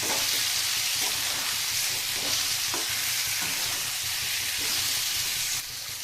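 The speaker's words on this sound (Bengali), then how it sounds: "একটা টমেটো এরকম ডুমো ডুমো করে কেটে রেখেছি টমেটোটাও দিয়ে দিলাম" Diced tomato goes into a pan of frying new-potato masala with turmeric, giving a steady, close sizzling hiss with faint stirring, loud and continuous with no talk.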